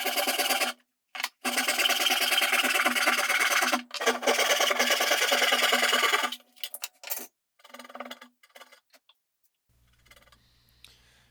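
A hand saw cuts a wood tenon for a joinery shelf in fast, rhythmic rasping strokes, loud and close, pausing briefly between bursts before the sawing trails off into small taps and quiet handling.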